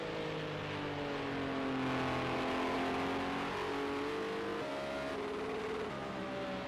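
A GT3 race car engine in Project CARS 2 at Red Bull Ring drones steadily at high revs, its pitch climbing and dropping through gear changes, loud and close with no voices.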